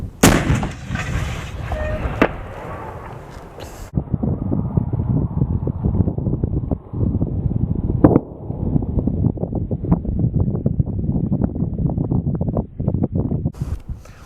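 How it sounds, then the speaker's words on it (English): A Whitworth cannon fires at The Cinnabar with a sharp, loud boom at the start. A rumbling tail decays over a few seconds, then gusty wind buffets the microphone. "Fire in the hole."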